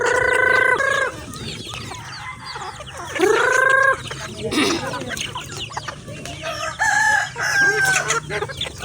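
Chickens cluck loudly up close, with repeated harmonic calls and a few drawn-out crowing-like cries, busy and overlapping throughout.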